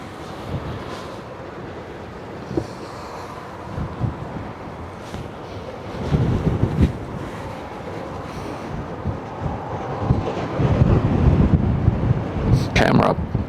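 Gusty wind buffeting the microphone at a ship-spotting spot on the Westerschelde, a low rumbling roar that swells and fades in uneven gusts, loud and close throughout.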